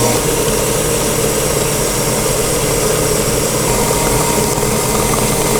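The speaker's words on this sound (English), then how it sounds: "we're going to put this on a high speed and mix for 2 more minutes" An electric mixer whips butter at high speed for a dairy-free strawberry shortcake, making a loud, steady, dense whirring drone that holds constant throughout with no talking.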